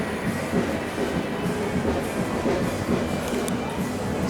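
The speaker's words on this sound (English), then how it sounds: "That is a non-stop train to St Pancras." A non-stop train to St Pancras rushes through Brent Cross West station, a loud continuous rumble of wheels and rails with clattering texture, close by and without talk.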